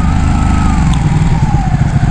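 A motorcycle engine idles loudly and close, its exhaust rumbling with a throbbing, uneven low growl.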